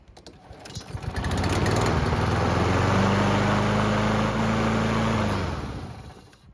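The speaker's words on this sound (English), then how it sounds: "the engine started right back up with no issues" A hot lawn mower engine, warmed up after several minutes of running, restarts and quickly settles into a loud, steady close-up drone, then winds down and cuts off after a few seconds.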